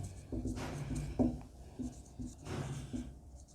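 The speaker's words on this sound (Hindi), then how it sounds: "मैं यहाँ लिखता हूँ अहबाउ की जो ट्रिक है" Chalk or marker writing on a board in a classroom-style chemistry lesson, faint scratchy strokes in short bursts at a quiet, close level with soft room noise.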